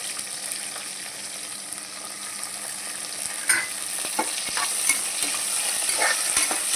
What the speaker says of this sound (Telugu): మంచిగా ఫ్రై అవ్వాలి.